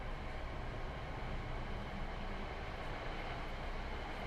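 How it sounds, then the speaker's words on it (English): An ALP-45DP dual-power diesel-electric locomotive running on the Morristown line in Train Sim World 6, a dense, steady low rumble and broadband roar at moderate level with no talking. "So this is a modern dual power locomotive which features diesel and electric."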